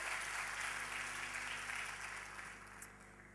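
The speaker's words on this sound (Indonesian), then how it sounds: "Tepuk tangan buat Yesus." A church congregation applauds for Jesus, a dense wash of clapping that holds steady and then slowly fades toward the end.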